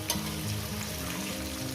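Pumpkin and Malabar spinach frying with a fish head in oil over medium gas for chorchori, a dense, even sizzle with a low hum running steadily throughout, no voices.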